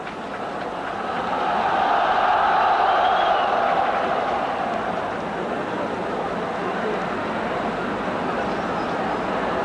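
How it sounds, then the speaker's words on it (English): Local stadium crowd at a 1982 World Cup qualifier between China and New Zealand, a broad roar swelling over the first few seconds after a corner is given, then holding as a steady, distant murmur of reaction. "You can hear the reaction from the local crowd"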